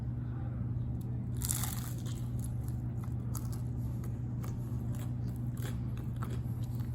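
Crunchy homemade pizza al taglio crust is bitten and chewed close up, with one loud crackling crunch followed by smaller crisp snaps over a steady low background hum.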